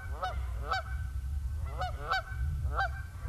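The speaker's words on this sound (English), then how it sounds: "these geese were just having fun and listening to their honks echoing off the steep canyon walls" Canada geese honk repeatedly in a steep canyon, loud nasal calls coming in uneven pairs and bursts, each followed by a faint echo off the rock walls over a low background rumble.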